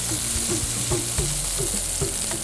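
Ingredients dry-roasting with a little oil in a pan, a continuous hissing sizzle with soft scraping stirs repeating in an irregular rhythm, close and steady.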